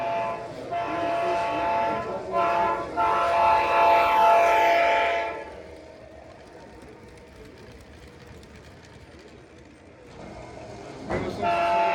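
A small LEGO model train rumbles past on a layout at a LEGO fan exhibition, a steady clattering hum, loud for several seconds then fading, with people murmuring in the background.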